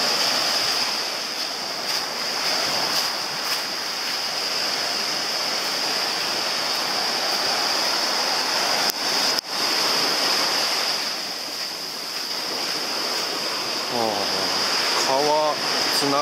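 A river meeting the sea at a beach on Okinawa's west coast, with steady broadband rushing of surf and flowing water close to the microphone, some wind noise, and a brief voice near the end.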